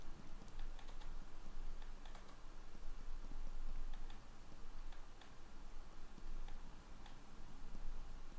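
Keys clicking on a Razer keypad during digital painting, faint scattered taps in an irregular rhythm over a steady background hiss, with no talking.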